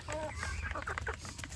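Free-range village chickens and roosters cluck in a rapid, close burst of short calls over a low background hum.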